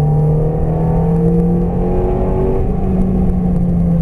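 A Ferrari F430 engine roars under hard acceleration on a race circuit, its pitch rising steadily as it climbs through the revs, loud and close throughout.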